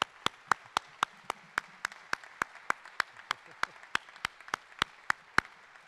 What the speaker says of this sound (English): let's please give them a well-deserved round of applause